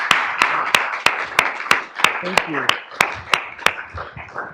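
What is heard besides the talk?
audience applause after a seminar talk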